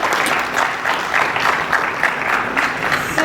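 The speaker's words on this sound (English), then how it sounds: "Can we have a round of applause for him?" Steady applause from an audience at a TiE Lucknow entrepreneurship event, continuous clapping from a full room at even loudness with no speech over it.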